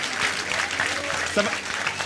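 Audience applause at a church Christmas event, a steady wash of clapping from a crowd throughout, moderately loud and continuous.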